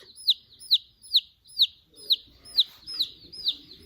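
A baby chick peeping in a steady rhythm, about two high, bright peeps each second, very close, with faint soft murmuring behind later.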